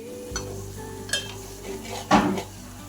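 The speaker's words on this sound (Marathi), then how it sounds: "आपण अद्रक लसणाची पेस्ट केलेली आहे ती थोडा शिजवून घेऊया" Ginger garlic paste cooking in a pan for Schezwan chutney, heard as a few distinct clinks and scrapes of a utensil against the metal pan at irregular intervals over a low, steady background.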